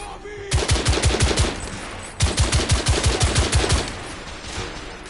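Rapid automatic gunfire in the video game The Order 1886, two loud bursts of evenly spaced shots with a brief pause between them, no voices.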